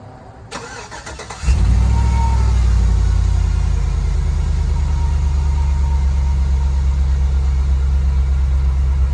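A 2004 Chevy Tahoe with a Vortec V8 cranks briefly, catches and fires up, settling into a loud, steady, deep idle that holds right up close to the end.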